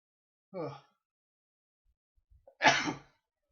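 A single sneeze: a short inhaled build-up, a pause, then a loud explosive burst that trails off, with silence around it.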